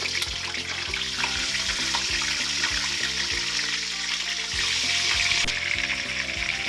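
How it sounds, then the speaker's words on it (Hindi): Ingredients frying in hot ghee on a stovetop for pulao kabab, a dense continuous sizzle with a steady hum beneath it, even and fairly loud throughout. "फ्राई करने के लिए मैंने घी चूल्हे पे रख दिया है। इनको फ्राई करते हैं।"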